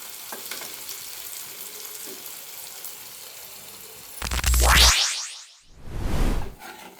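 Small onions sautéing in a pan, a soft continuous sizzle interrupted by two loud whooshing bursts of stirring or tossing near the end.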